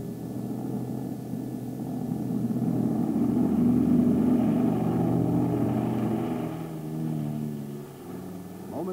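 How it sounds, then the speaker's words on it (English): The piston launch plane for a Ryan Firebee KDA-4 target drone takes off with a steady engine and propeller drone that swells, holds, then recedes. "Moments later, the launch plane is a receding dot in the sky, climbing to launch altitude."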